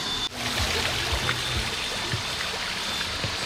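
A bubbling boulder water feature in a backyard with a retaining wall and pavers, giving a steady close trickle and splash of running water with gurgles throughout, no voices.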